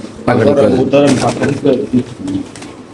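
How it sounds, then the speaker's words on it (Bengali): Racing pigeons cooing close by at a pigeon market, partly masked by someone talking over them. "ট্রিম্বার রেসার মাদি কবুতর।"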